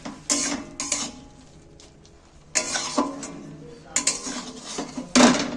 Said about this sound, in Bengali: এবার আমি শাকটাকে একটা থালার মধ্যে ফেলে দিচ্ছি